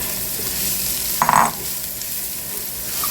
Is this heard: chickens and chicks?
no